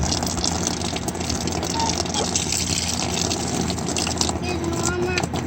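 Water gushing steadily from an outdoor spigot, a loud continuous splash and rush close by, with people talking over it at times.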